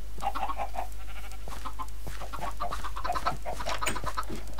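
Minecraft chickens on a chicken farm cluck steadily and loudly over a constant low hum, with several overlapping birds and no talk.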